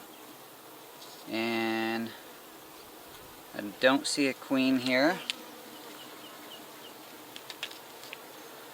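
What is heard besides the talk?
honey bees buzzing on a hive frame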